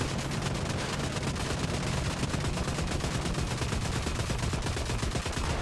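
Dense, continuous automatic gunfire from vehicle weapons in the top-down mech game Brigador, a steady rapid rattle with heavy low thumps running loud and unbroken throughout.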